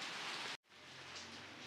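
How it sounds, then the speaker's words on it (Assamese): Rain falls steadily outside as a soft, even hiss of drops. The hiss breaks off sharply for a moment, then resumes quietly. "তথাপিতো বৰষুণ দিছে দেই"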